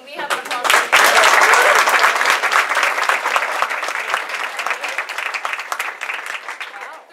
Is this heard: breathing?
no